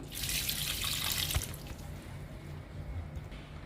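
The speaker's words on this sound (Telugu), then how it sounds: "ఈ ప్లాంట్కి కూడా పోస్తున్నాను" Water streams steadily from a can or jug onto indoor potted plants, a soft continuous splashing pour that fades toward the end, close and alone without talk.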